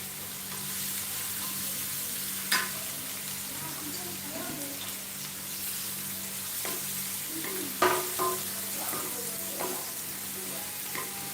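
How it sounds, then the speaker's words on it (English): Red onions and garlic fry in a pot for fried rice, giving a steady moderate sizzle. A few sharper stirring scrapes and knocks cut through, with a faint low hum underneath. "Just keep stirring your red onions and garlic till they are all turned in brown color."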